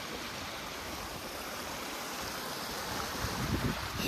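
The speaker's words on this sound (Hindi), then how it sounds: "शोर से तो आपको पता चल ही गया होगा कि हम लोग है एक ऐसे छोटे से झरने के पास" Small mountain waterfall rushing steadily and loudly, a continuous broadband roar of falling water with wind buffeting the microphone.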